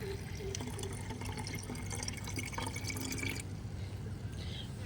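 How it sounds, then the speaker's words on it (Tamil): Water pours and splashes into a sprayer with a steady, dribbling trickle, fairly quiet and close. "ஒரு மக்கு தண்ணியும் சேர்த்துக்குவோம்"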